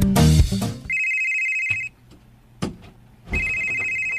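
Mobile phone ringing with an electronic ringtone, loud and close, repeating in bursts separated by short pauses, after a brief noisy start, with no talking over it.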